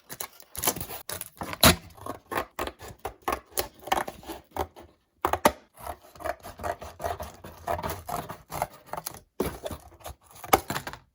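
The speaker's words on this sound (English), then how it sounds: "See if these safety scissors are strong enough to cut through the cardboard." Safety scissors chew through a flattened cardboard box in a steady series of close, scraping snips and rasps, with brief pauses between cuts.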